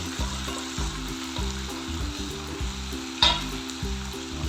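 Onion and fish paste for a katla kalia frying in a pan, giving a steady close sizzle with a brief louder clatter partway through.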